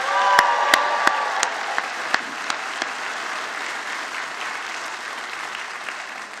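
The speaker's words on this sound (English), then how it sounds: "How about a round of applause for them?" A convocation audience at a School of Human Services graduation applauds steadily, a dense wash of many hands with a few sharp claps standing out early, then fading slightly toward the end.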